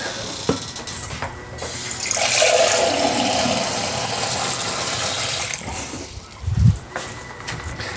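Water pours steadily into a Moyu portable folding washing machine as it is filled a litre at a time for a wash. A gushing stream runs for a few seconds, followed by a short, heavy splash and quieter trickles.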